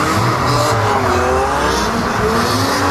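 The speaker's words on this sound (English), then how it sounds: "They're going to be doing some bits and bobs for you now, a little synchronized drifting." Loud, continuous car engines and squealing tires from cars doing synchronized drifting at a car show, with sustained high-pitched screeching and roaring motors filling the whole stretch.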